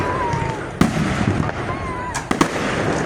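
Fireworks at a stadium show in Booneville, Bearcat Stadium, with several sharp bangs including a loud burst and a quick double crack, under a steady background murmur of voices.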